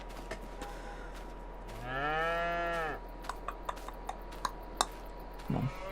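A single drawn-out cow moo from a herd of beef cattle in a farming video game rises and falls over about a second, followed by light ticking and small clicks in an otherwise quiet scene.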